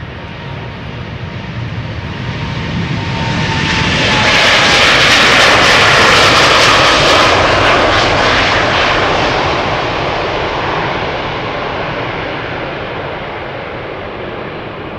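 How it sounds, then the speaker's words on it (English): A KLM Boeing 787-10 Dreamliner, three years old, departs Amsterdam Schiphol with a loud, broad jet roar that swells to a peak mid-clip and then slowly fades, heard alone without voices. "This is KLM Flight 667 going to Austin, Texas. 787-10 Dreamliner, 3 years old."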